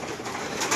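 A pigeon coos once, soft and close, against a faint hiss of background noise with no voices.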